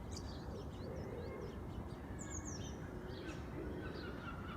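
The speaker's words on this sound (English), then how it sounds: "Distant cawing, I think it's rooks in the distance." Rooks caw faintly in the distance, several scattered calls rising above a steady low rumble of outdoor background noise.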